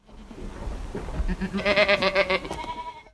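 Yellow goats in a nomadic Yörük herd in Anatolia, several close bleats in a quick, wavering cluster rising over low rustling background.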